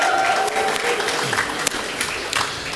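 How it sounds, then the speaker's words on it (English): Audience at a South African football event applauding: a short burst of crowd clapping with a few sharp claps, under a murmur of voices. "So let's give both of them a big round of applause."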